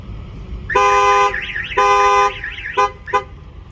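A Ford Transit alarm in panic mode sounds close and loud: steady horn-like blasts alternate with a warbling siren, then two short chirps.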